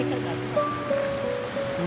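A river swollen with rainwater after winter rain rushes near the first waterfall at Morialta Conservation Park in Adelaide, South Australia, a steady close roar with a person talking over it.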